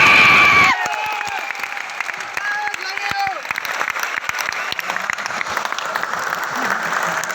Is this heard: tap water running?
no